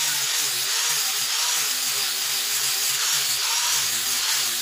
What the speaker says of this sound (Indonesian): gerinda pakai amplas yang nomor 60 biar durasinya agak cepat